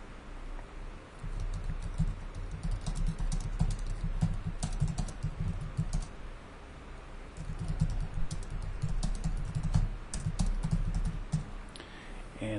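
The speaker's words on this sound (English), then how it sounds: "Let's type in another sentence." Fast, continuous typing on a computer keyboard, with close, crisp key clicks in uneven bursts and no talk.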